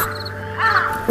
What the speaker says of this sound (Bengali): কানে বাজে অশুভ কাকের ডাক